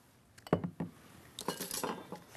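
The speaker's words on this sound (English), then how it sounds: "And then we're going to whisk, whisk, whisk away." A dressing is whisked in a bowl, giving a few quick, light clinks and taps of metal against glass in short irregular bursts, fairly faint and close, with no talk.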